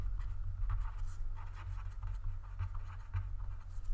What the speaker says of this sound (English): So let's write our description down here.